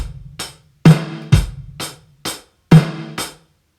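Rock beat played on a drum kit, with bass drum, snare and hi-hat hits in a steady pattern and a brief gap where bass and snare drop out, close and clear.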